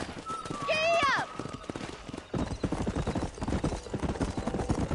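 Horse hooves clip-clop at a gallop in the Red Dead Redemption video game, steady rhythmic beats running under voices, with a whinny near the start.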